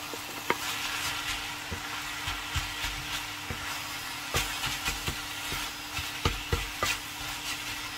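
Beef, cabbage and vegetables frying in a pan for an Asian-style meal, a constant sizzle broken by repeated spatula knocks and stirring clatters at an uneven rhythm, close up with no talking.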